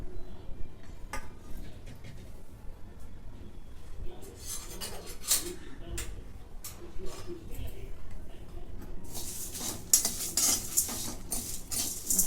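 Whole spices are dry-roasted in a pan for Saoji mutton: dried chillies, cloves, cinnamon, mace, star anise, cardamom, stone flower, bay leaves and chana dal. A spoon stirs and scrapes steadily against the metal, with light rattling and a faint hiss throughout.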